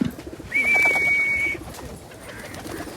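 Pigeons coo loudly and close by as they gather for scattered wheat grain, a sustained throaty call lasting about a second, with softer cooing and faint ambient noise continuing afterward.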